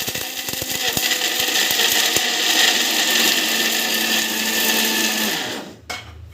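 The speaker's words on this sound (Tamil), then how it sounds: "எல்லாத்தையும் ஒரு தடவை போட்டு நம்ம வந்து மிக்சியில் போட்டு அரைக்க போகிறோம்" A kitchen mixer grinder whirs loudly and steadily as it grinds laddu ingredients, holding a constant motor drone for about five seconds before cutting off, followed by a brief clunk.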